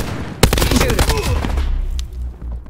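A rapid burst of gunfire in the video game Call of Duty: Black Ops 4, loud and close, starting abruptly and rattling on for about two seconds before fading, with a voice speaking briefly underneath.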